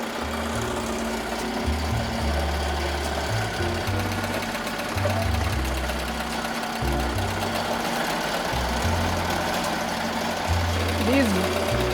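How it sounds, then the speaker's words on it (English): An embroidery machine runs at about 800 stitches per minute sewing a bean stitch appliqué on a holiday wreath design, a loud, close mechanical hum with a low, stepping drone that shifts pitch as it works, continuing without break. "These bean stitches look so good. I'm going about 800 stitches per minute."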